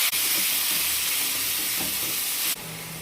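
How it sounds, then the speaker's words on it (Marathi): Cumin and mustard seeds sizzle in hot oil with a loud, close, continuous frying hiss that drops abruptly in level near the end, with no talking. "आता तेल घेते जिरं मोहरी"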